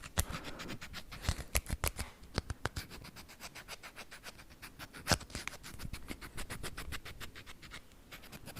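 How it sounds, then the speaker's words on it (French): Small sewing scissors from a sewing box snip in a quiet room, crisp close-up clicks in irregular bursts, some quick runs of several cuts and a few sharper single snaps, with no voices. "petit ciseau"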